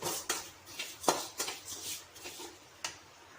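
Spices being dry-roasted in a pan on the stove and stirred with a spoon, soft scattered scraping clinks and taps, quiet and close, with no voices.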